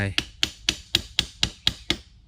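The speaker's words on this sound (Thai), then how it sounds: "ขนุน นี่มีเทคนิคนะครับ ตัดก้านแล้วก็ใช้ไม้" Eight sharp, evenly spaced wooden knocks as a stick is pounded into the cut stem of a jackfruit, each hit close and loud with a short ringing decay, no talk over it.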